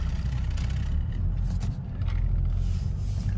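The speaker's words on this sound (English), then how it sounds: "This traffic is fucking ridiculous," Road traffic with cars passing in a steady, loud low rumble of engines and tires, with brief swells as vehicles go by.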